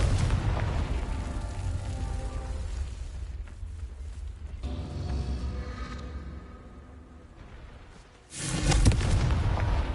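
Confringo blasting spell explosions in the Hogwarts Legacy video game: a sustained rumbling burst fading over several seconds, then a sharp loud boom near the end, with no talk.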